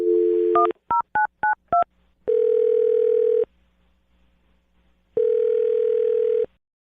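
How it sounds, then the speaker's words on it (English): A telephone number is dialed on a keypad: a short tone, then five quick beeping DTMF key presses, followed by two longer steady ringback-style tones, loud and close with no talking. "I'm going to dial his phone number right now"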